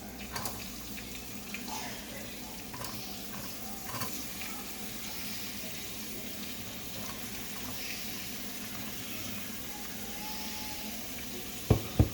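Sliced capsicum and onions sauté in a pan for a Thai-style pasta, giving a steady low sizzle with faint stirring scrapes and a couple of sharp knocks near the end.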